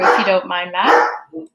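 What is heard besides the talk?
dog barking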